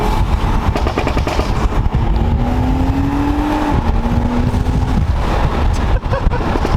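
A BMW 135i accelerates hard at highway speed, its engine note rising steadily through two gear pulls under heavy wind and road roar inside the cabin.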